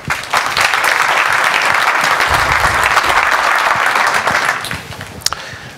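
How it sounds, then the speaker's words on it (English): Sustained, steady applause from a large conference audience at FOSDEM 2014 greeting a presenter before his talk on Jitsi Videobridge and WebRTC, dense and even for about five seconds before tapering off. "Let's applaud him."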